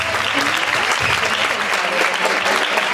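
An audience at a town-hall event in Sanlúcar la Mayor applauds an official, with steady dense clapping from many hands throughout.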